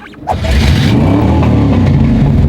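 A car engine revs hard and loud, rising into a sustained throaty roar that holds steady, close by, with no talking.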